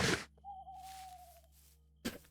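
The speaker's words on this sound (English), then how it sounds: "So you won't normally be able to hear birds or an owl, stuff like that in the game." A single soft, sustained owl hoot sounds in a forest as a modded Minecraft ambient effect, faint and steady in otherwise quiet game audio, framed by brief louder noises at the start and end.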